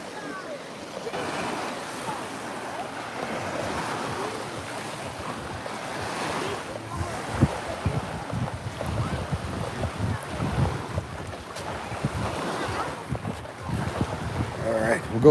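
Ocean waves wash onto a beach under steady wind noise, a continuous broad surf rush with occasional louder swells, heard from close by on the shore.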